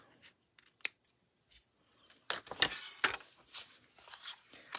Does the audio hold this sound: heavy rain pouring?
no